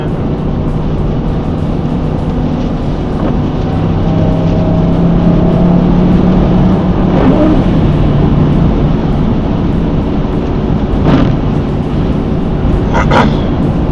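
A car drives along a highway through a snow storm, its steady road and engine rumble filling the whole stretch, with a few brief louder swells of passing traffic near the end.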